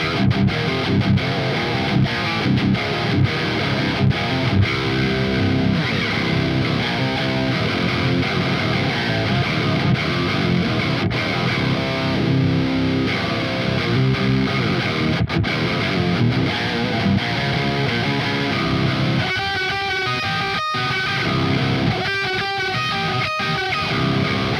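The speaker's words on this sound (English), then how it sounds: "So here's a cool sound that I set up using the octave pedal" Electric guitar riffing through an octave pedal with whammy pitch effects, heavily distorted and continuous, with stuttering choppy bursts near the end.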